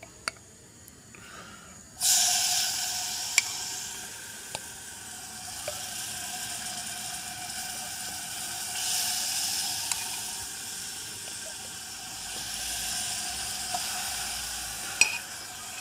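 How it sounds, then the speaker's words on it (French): Fruit jelly starts heating in a hot rinsed saucepan, a steady soft sizzle beginning abruptly and holding at moderate level, with a few faint clicks. "Je mets la gelée de fruits à chauffer dedans."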